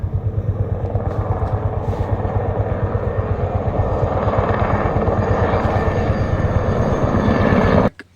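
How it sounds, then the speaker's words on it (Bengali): A helicopter circles near the Nathula helipad in East Sikkim, its rotor thumping in a fast, loud, steady pulse close by before cutting off abruptly at the end. "তো সকাল থেকে হেলিকপ্টার ঘুরে যাচ্ছে এখান থেকে।"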